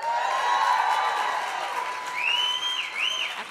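Audience at a gala at the Beverly Hilton in LA clapping, a dense steady wash of applause filling the room, with faint background voices and a whistle-like tone toward the end.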